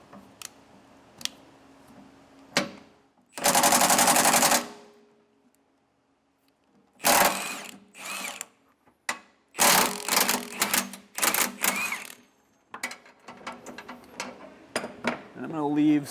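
A power tool loosens the bolts on a Gen-Y shock-absorbing 5th wheel hitch on a 2019 Highland Ridge trailer, firing in several loud bursts of different lengths, with clanking handling sounds and brief talk in the gaps.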